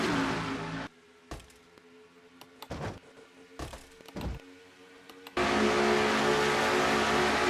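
Race cars running side by side in the NNSCRA Castrol GTX Cup Series racing video game at the Southern 500: loud engine drone that cuts out, a few sharp thunks, then a steady roaring engine returns.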